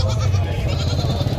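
Goats bleating at a busy livestock market for goats in Custódia, Pernambuco, Brazil, a dense crowd of animal calls with steady low rumble throughout, loud and continuous.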